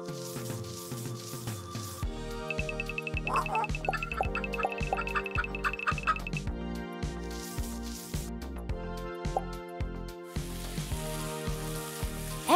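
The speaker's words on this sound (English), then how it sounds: "Egg whites are on a tiny frying pan." Egg whites fry in a tiny frying pan with a soft, continuous sizzle, buried under upbeat background music with twinkling chimes throughout.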